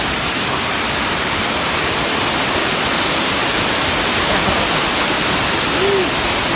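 Pangas Falls in Dagohoy, Bilar, Bohol, produces a dense, constant roar of falling water. The broadband rush stays loud and unbroken, with no other sounds standing out.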